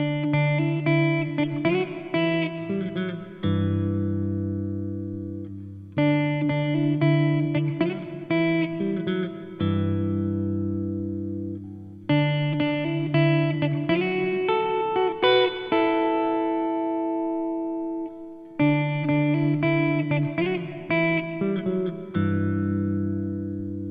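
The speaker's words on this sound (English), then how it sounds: "That's a plate reverb" A Supro Airwave guitar plays through a plate reverb effect: four chord phrases, each a run of strums that ends in a sustained ringing chord with a short bright tail. The playing is steady and clear, with no voices.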